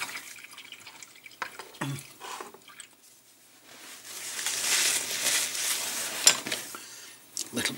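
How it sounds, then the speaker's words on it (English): Close small splashes and stirring of a paint brush being wet in a water pot while painting a miniature figure, with a few clinks early on and a longer swishing passage in the middle. "Little bit of water on the"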